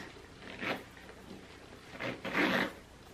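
Zipping shut a tightly packed Louis Vuitton bag produces a few short, quiet rasping bursts with pauses between pulls.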